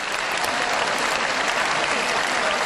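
Dense, steady audience applause fills the whole stretch at an even, loud level, many hands clapping together with no pauses or distinct voices.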